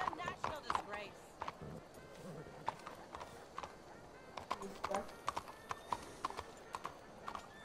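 Horse hooves in the video game Red Dead Redemption 2 clip-clop in an uneven walking rhythm, close and moderately loud, with a soft background hum.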